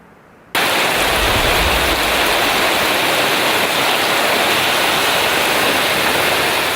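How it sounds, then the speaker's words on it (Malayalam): Heavy rain pours across Kannur, bursting in abruptly after half a second as a loud, steady, unbroken hiss that stays dense and even to the end, with no voices. "ഇപ്പോഴും ജില്ലയുടെ എല്ലാ ഭാഗങ്ങളിലും മഴ പെയ്തുകൊണ്ടിരിക്കുകയാണ്"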